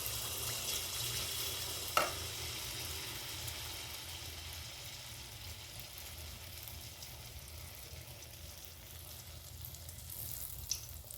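A small spoonful of semolina malpua batter fries in hot oil, producing a faint, even sizzling hiss with a couple of light utensil taps, quiet and steady throughout without speech.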